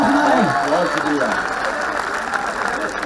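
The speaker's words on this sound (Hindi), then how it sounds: "जोरदार हाथ खड़े करके तालियां बजाइए" An audience claps at a mushaira, an Urdu poetry recital, in a steady wash of applause lasting about three seconds, with a voice speaking over it at the start.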